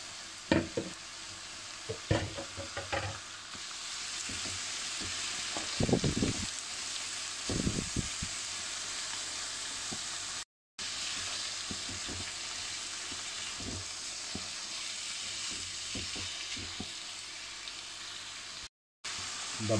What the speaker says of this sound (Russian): Морковь будем обжаривать примерно 3-4 минутки.